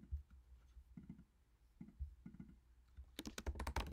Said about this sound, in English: Give ourselves a little more room to type in the titles. We can click in here and type in